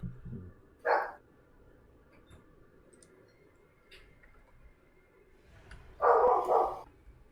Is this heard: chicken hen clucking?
no